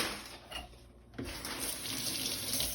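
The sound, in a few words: water running from tap, rinsing cut pineapple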